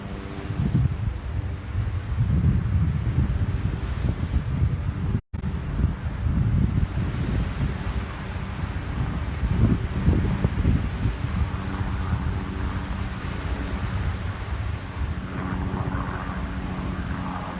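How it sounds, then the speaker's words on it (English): Wind and ocean surf at a beach, a loud, continuous roar dominated by gusting wind buffeting the microphone, with breaking waves blended underneath and no speech. "I'm in like a meditative state since I'm here at the beach."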